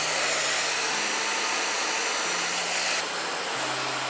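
PATTERN blow dryer running at heat level 1 and fan level 1, giving a loud steady whooshing airflow with a constant motor hum, close up, with a slight shift in tone partway through.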